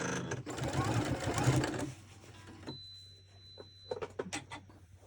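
Sewing machine stitching a quilt block seam in a short rapid whirring burst lasting about two seconds, then stopping, followed by quiet handling noises and a voice speaking.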